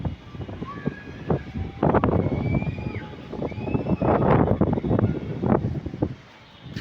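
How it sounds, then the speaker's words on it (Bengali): Strong stormy wind, with no rain, sweeps across the rooftop of a seven-storey building, roaring and buffeting the microphone in loud, uneven gusts throughout. "প্রচুর ঝড় হচ্ছে, খালি বাতাস।"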